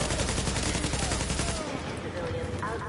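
Rapid automatic bursts from an RPK light machine gun in The Division, loud and close for the first half, then dropping to a quieter battlefield bed with faint distant shots and muffled voices.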